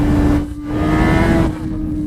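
Honda CB 1000 Hornet motorcycle engine pulling under throttle, a steady close-up drone with a strong low harmonic, a brief dip in level midway, then holding on.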